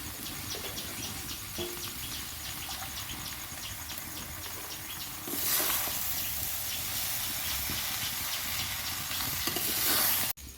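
Chow mein with chopped tomato and egg sizzles steadily in a hot pan, a continuous frying hiss with light stirring scrapes, growing louder midway and ending abruptly, with no talking.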